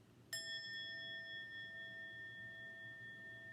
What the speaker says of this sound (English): So we'll ring a bell for those who struggle with what was called melancholy